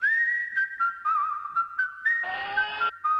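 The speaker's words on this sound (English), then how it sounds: "This Gohan whistling thing makes me so uncomfortable." A cartoon character whistles a tune in a Dragon Ball Z animated film, a steady clear melodic whistle with short gaps between phrases, alone and fairly loud, briefly joined near the end by a fuller burst of music.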